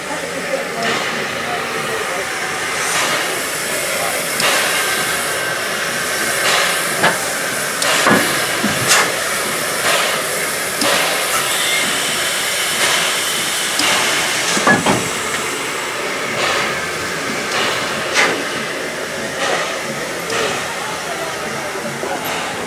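A small restored steam locomotive at Bodiam hisses steadily at close range, with intermittent louder bursts and metallic clanks and knocks scattered through, while people talk nearby.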